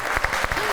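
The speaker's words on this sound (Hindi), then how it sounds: "ऑलराइट, तालियां हो जाएं।" Studio audience applause on a talk show, a dense burst of clapping with sharp individual claps standing out, steady and fairly loud throughout.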